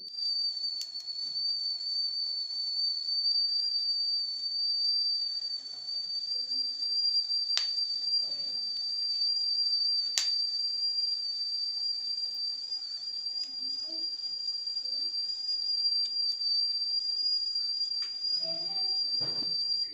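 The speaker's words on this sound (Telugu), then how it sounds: "ఇక చూసిండు కదా ఇట్లా విజిల్" A stainless steel idli cooker's steam whistle shrills continuously at a steady high pitch for the whole stretch, with a few faint clicks and knocks beneath it.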